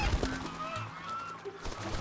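Lion-head geese, a large Chinese domestic breed, give a few faint honks over a noisy farmyard background.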